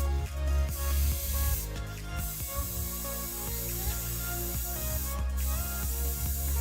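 Airbrush air blown from a stencil mask onto paper, a steady hiss and spray running throughout with faint mechanical clicks and rattles underneath, moderately loud and close.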